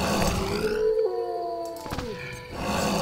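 Dogs howling in The Witcher video game, a long rising and falling howl with layered tones that fades out, set against a dense game soundscape with no talking.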